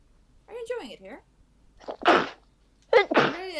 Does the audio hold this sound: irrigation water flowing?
no